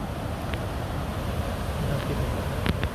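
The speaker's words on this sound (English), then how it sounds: "You can hear the water is just raging right now." Raging water of Whatcom Creek in downtown Bellingham, Washington, a loud, steady broadband rush of fast-flowing water close by, with a few faint clicks near the end and no talking.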